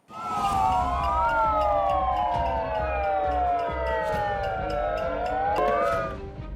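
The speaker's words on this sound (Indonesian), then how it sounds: "Mereka juga menyalakan sirine melalui pengeras suara untuk menarik perhatian." A wailing siren is played through a loudspeaker at a street protest for Palestine, loud and continuous with overlapping rising and falling tones.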